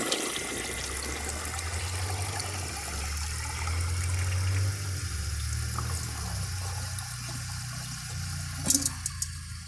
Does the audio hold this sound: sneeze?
no